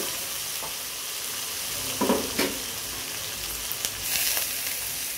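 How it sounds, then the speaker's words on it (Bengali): Spice masala for chicken khichuri fries in a pan with a steady soft sizzle, interrupted by a few louder scraping stirs of the spoon partway through, with no talking. "মশলাটা ভালো করে কষিয়ে নেব কিছুক্ষণ"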